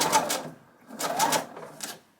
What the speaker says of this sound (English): I just feed it through the machine like so, and I'll stitch across from the very end over the edge of the piece that I'm sewing